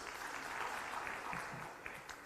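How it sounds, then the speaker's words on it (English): Audience applause for a panel of speakers at a World Press Freedom Day event, a steady, dense clapping that fills the whole moment without talk. "let's give a round of applause to our panelists."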